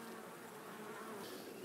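Honey bees from an opened hive during a frame inspection make a dense, continuous buzz, close and steady, with no talk over it.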